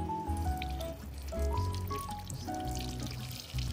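Water poured over Radha Krishna idols during a bathing ritual, a soft continuous trickle beneath a melodic devotional tune playing throughout, with no speech.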